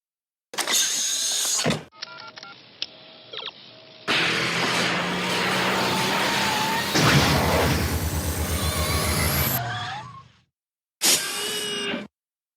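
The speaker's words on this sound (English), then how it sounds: "So, Marty, we're going to get back in the car because we're going to go into the future" A car launching into the future: whirring electrical buzzes and a loud, roaring, crackling surge that swells for several seconds, cut by brief silences and ending with a short final burst.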